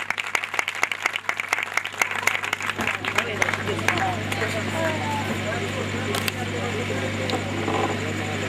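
A church congregation breaks into steady, sustained applause that fills the room, dense clapping continuing throughout with a low hum underneath.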